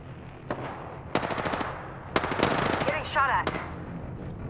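Weapon fire in the battle royale video game Apex Legends, a few rapid automatic bursts with sharp sustained rattles, layered with game voice lines and other effects.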